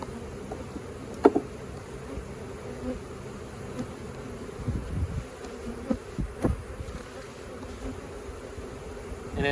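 A steady, low buzzing of many honeybees swarming close by around a newly placed queen, with a few sharper bumps and knocks partway through.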